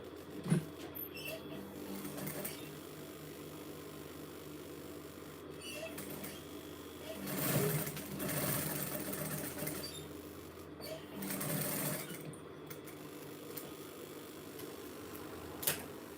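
A sewing machine stitches fabric for a handmade drawstring gift box, running as a steady, faint mechanical whir with two louder stretches of rapid stitching partway through, close by and without talk.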